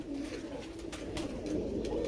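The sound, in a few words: pigeons cooing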